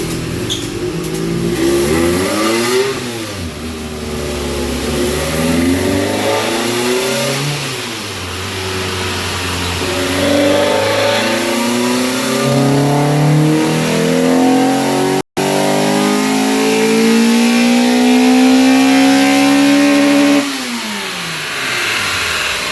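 A 2006 Toyota Corolla XRS engine on a dyno revs up through a long, loud climbing pull, dips, then sweeps upward again before cutting back, close and dominant with no voices.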